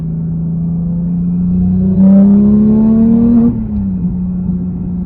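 A modified 2018 Porsche 911 GT3 (991.2) with a 4-liter engine, headers and a center muffler revs up loudly close by, its tone rising steadily before dropping back to a rumbling idle.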